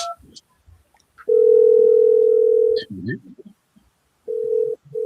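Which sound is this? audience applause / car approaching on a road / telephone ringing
telephone ringing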